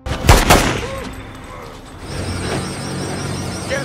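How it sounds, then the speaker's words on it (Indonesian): Gunfire in an action film scene: a loud sharp burst of shots right at the start, then a quieter mechanical, clanking background with no speech. "Jurap muncul hingga berhasil menembak Yas."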